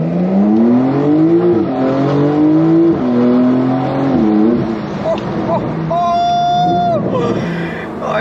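A Porsche 911 Carrera accelerating hard, engine note climbing through rising sweeps with brief drops between gear changes, loud and close from inside the car, with a voice speaking over it.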